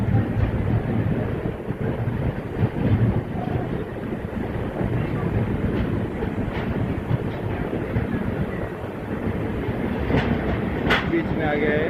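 Doulatpur Chowk Express, train 19411, running on rails past Marwar Junction while overtaking another express, giving a steady loud rumble with clickety-clack and wind noise throughout, with brief higher squeals near the end.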